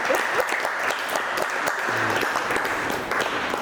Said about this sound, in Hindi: जोरदार ताली उस बच्चे की